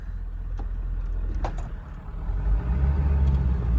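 Truck idling and climbing a rough, sketchy driveway beside a creek, a steady low engine rumble that swells in the second half with a few light rattles and clinks on top.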